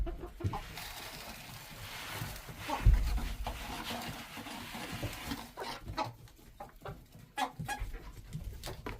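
Chickens on a homestead cluck and murmur in the cold at feeding time, with soft intermittent calls and shuffling close by, and a person's voice occasionally audible among them.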